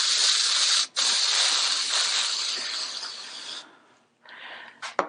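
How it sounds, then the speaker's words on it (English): Edible gold cocoa butter spray hisses steadily onto a sugar cookie for several seconds with one brief break, then stops, followed by a short final spurt. "I have some gold spray, and I will spray this one gold."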